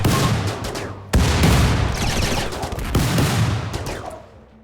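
Rapid volleys of colonists' gunfire in the top-down colony game RimWorld with the RiftWorld mod: dense, loud overlapping shots with sharp attacks around one and three seconds, then trailing off.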